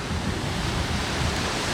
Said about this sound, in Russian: Это Балтийское море.